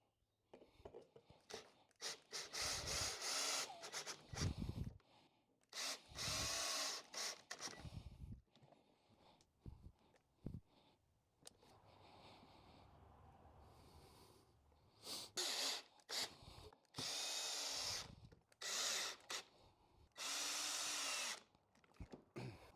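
A power drill drives 3-inch deck screws into wood for a simple workbench and sawhorse build, sounding in several loud, close bursts of whirring separated by short pauses and quieter handling noise.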